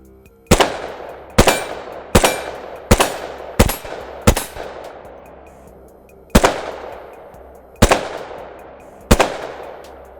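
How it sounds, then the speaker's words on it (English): Desert Eagle pistol firing recommended ammunition outdoors: nine loud, sharp shots in irregular succession, each with a ringing decay trailing into the next, no voices present. "We're gonna shoot a few more rounds of the recommended ammo"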